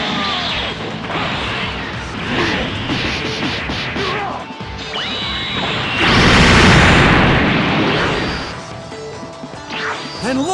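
Explosion in the video game Dragon Ball Z: Budokai Tenkaichi 4, a loud crashing burst with booming smashes amid busy battle effects, swelling to a sustained roar midway and fading near the end.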